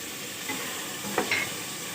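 Arbi (taro root) and meat frying in a pan: a steady low sizzle with a couple of brief stirring scrapes and pops, no talking.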